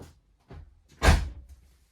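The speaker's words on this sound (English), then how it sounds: "close my door" Car door on a Mater GTi shut in a garage, a soft click followed by one solid close, close by and alone.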